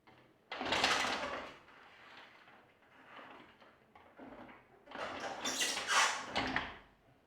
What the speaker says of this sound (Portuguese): Batendo na porta aqui da minha casa.